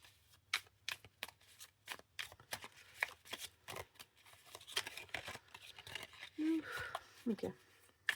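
Tarot cards are shuffled in quick, irregular riffles and slaps, close and fairly soft, with brief quiet gaps between bursts.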